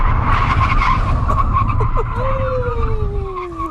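A Rover 75 saloon brakes hard from 70 mph in a stopping test, tyres squealing and skidding loudly over a rumbling engine and road noise, the screech sliding downward in pitch as the car slows.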